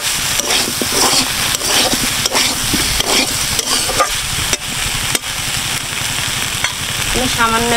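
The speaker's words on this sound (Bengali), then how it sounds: "সুন্দর করে আলুটা ভেজে নেব" Potatoes and soybean chunks frying in a pan, a loud continuous close sizzle broken by regular scraping stir strokes throughout, with no talking.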